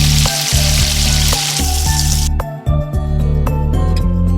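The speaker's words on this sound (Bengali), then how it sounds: "এবার আমি এক এক করে গরম তেলে এটাকে ভেজে নিই।" Biscuit-crumb-coated potato snacks deep-fry in hot oil with a loud, dense sizzle and bubbling, broken by repeated clunky knocks and thuds in an irregular rhythm, with no talking.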